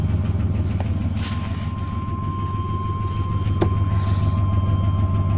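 A Chevy work van engine idles steadily and slightly rich, a continuous low rumble with a faint whine, close by and without talk.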